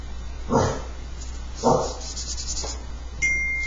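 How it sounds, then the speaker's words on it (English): A dog barks three times at a steady pace, a little way off, with a faint high insect-like hum running underneath. "We've got a barking dog and an unfocused camera."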